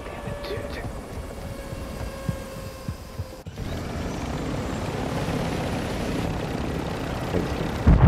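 Helicopter in a battle royale video game, a steady whirring rotor drone that builds and thickens midway, heard under ambient game noise.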